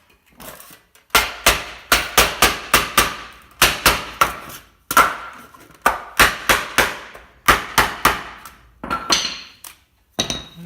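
Sharp, close knocks come in quick bursts of several strikes separated by short pauses, as a wooden 2x4 hammers a heat transfer plate over PEX into place.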